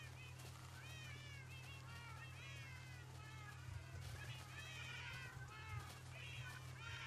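Several cats meow repeatedly in Minecraft, overlapping high mews coming one after another over a steady low game hum, fairly quiet in the mix.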